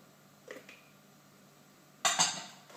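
A chocolate cupcake batter bowl gets an egg added, with a faint clink early on, then a louder, sharper clatter of shell or utensil against the bowl near the end, close and without talk.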